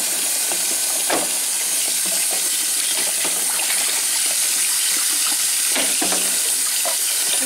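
Tap water runs steadily into a sink while hummingbird feeders are rinsed, a close, constant hissing gush broken by a few sharp clatters and knocks as the feeders are handled.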